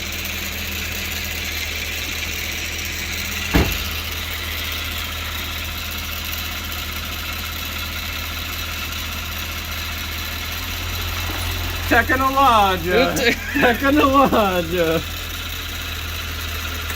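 Mercury Cougar car idling in a workshop, a constant mid-pitched engine drone with one sharp knock early on, while someone talks briefly over it near the end.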